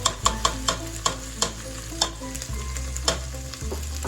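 Fideo noodles frying in a pan for sopa de fideo are stirred with a utensil, a steady sizzle under a rapid series of close scraping knocks against the pan, with no talking.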